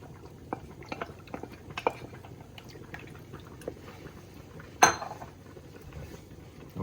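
A spoon scrapes and knocks against a big pot while coconut milk pasta sauce for a jerk chicken seafood alfredo is stirred, giving soft, sparse clinks and one sharp louder clank, with no talking.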